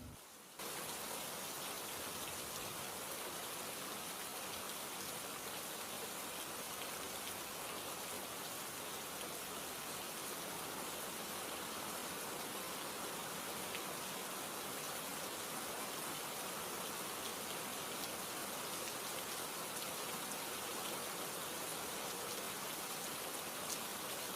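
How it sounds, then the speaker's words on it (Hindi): Torrential monsoon rain in Murree, a dense, unbroken hiss of heavy downpour on surfaces that holds steady throughout, with no voices. "इस वक्त आप मरी में मूसलाधार बारिश के मनाजिर देख रहे हैं।"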